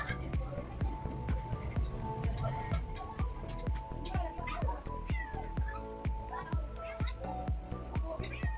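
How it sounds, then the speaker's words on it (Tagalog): A cat meows several times at close range in a home in the Philippines, mixed with clicks and other domestic sounds. "Si Pusa."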